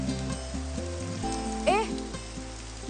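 Steady rain falls in a film scene, a soft continuous hiss beneath music and a faint voice.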